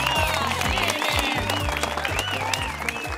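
Studio audience applause on an Argentine cooking show, a steady crowd clapping that fills the whole stretch, heard with music playing underneath.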